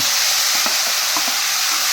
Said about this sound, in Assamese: এতিয়া আকৌ বিলাহীটো গুড়াকৈ ভাজি ল'ম